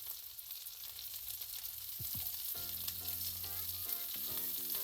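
Onions tossed into a hot pan for a steak sandwich fry with a steady, hissing sizzle, close and fairly quiet, with a couple of faint clinks as they land and settle.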